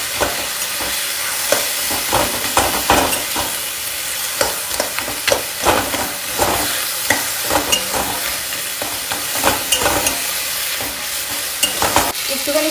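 A fried fish head cooking with ground cumin, coriander, ginger paste and chili powder in oil sizzles loudly and steadily, with repeated scraping stirs and clatter from a spatula, close by.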